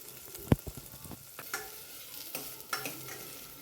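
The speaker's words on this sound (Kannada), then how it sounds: "ಒಂದು ಆಲೂಗಡ್ಡೆ ಹಾಕ್ಕೊಂಡಿದ್ದೀನಿ ಅದೊಂದು ಸ್ವಲ್ಪ ಫ್ರೈ ಮಾಡ್ಕೊಳ್ಳೋಣ" Potato frying in a pan of oil for a mutton gravy, a soft continuous sizzle broken by several sharp scraping stirs of a spoon against the pan, close by with no voices.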